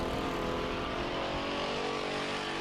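Race cars roaring around a dirt track on the white flag lap of a MORR Series event, a dense steady engine drone with layered revving tones, loud and continuous with no pauses.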